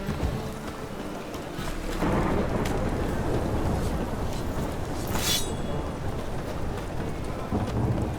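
Steady rain in The Witcher 3 video game, with a broad rumble of thunder swelling from about two seconds and holding loud through the rest, a brief bright hiss near the five-second mark.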